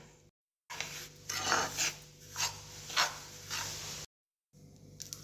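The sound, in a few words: roasting semolina (rava) in a pan for upma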